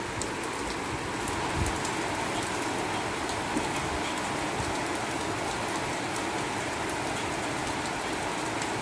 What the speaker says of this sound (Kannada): ನೋಡ್ರಿ ಮಳೆ